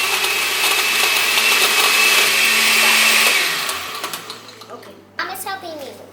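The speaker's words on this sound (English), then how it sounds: "My mom is helping me with the blender." A kitchen blender whirring loudly at high speed while blending a chocolate caramel banana smoothie, then winding down and stopping, with people talking once the motor cuts out.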